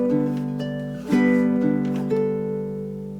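Baritone ukulele playing bars 11 and 12 of a Hawaiian waltz, gentle picked notes and a couple of fuller strums ringing and sustaining, close and moderately quiet, with no voices.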